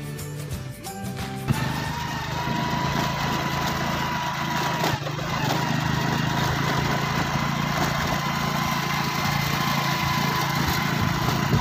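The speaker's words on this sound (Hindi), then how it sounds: "थ्रेशर लगा हुआ जिसे मशीनें कहते हैं ना, वो लगी हुई है और दाने निकाल रही हैं।" A grain threshing machine runs steadily in a village field, separating grain with a continuous loud mechanical drone and engine hum that persists throughout without talk.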